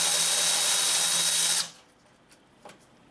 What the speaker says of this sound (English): Alright, using a 10mm socket,